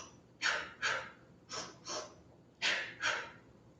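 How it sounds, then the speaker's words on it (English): Pranayama breathing done in pairs of short sips, two quick inhales then two quick exhales, repeated three times as close, breathy airy puffs with no talking. "we're going to inhale 2 sips of air and we're going to exhale 2 sips"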